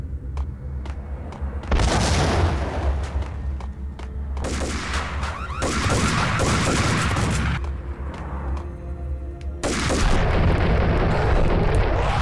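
Bomb explosions in the action game Max Payne, several loud booming blasts separated by rumbling gunfire, each burst swelling sharply and then decaying over a couple of seconds.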